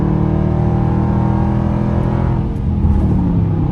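A 2021 Dodge Durango RT with straight pipe exhaust gives a loud, continuous, deep exhaust drone during a night drive, with the pitch briefly dipping and rising as the engine revs.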